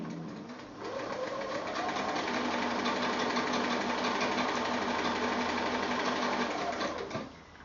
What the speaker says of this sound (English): I'm going to go to the sewing machine and sew on the long diagonal line right down the middle.